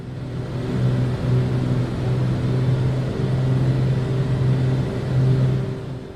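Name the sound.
BAE146 engines in cruise, Microsoft Flight Simulator video game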